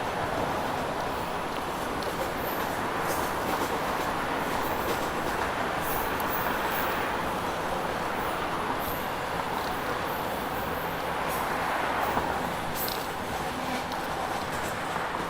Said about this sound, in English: we're racing a train here